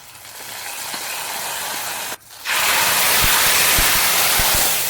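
Hot tempering of coconut oil with mustard seeds, sliced shallots, dried red chillies and curry leaves is poured into an ash gourd and jackfruit seed curry, giving a sudden loud, steady sizzle after a brief quiet break, with a few clinks.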